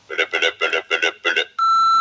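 A phone voicemail greeting plays, with a short spoken phrase followed by a loud, steady electronic beep that holds to the end.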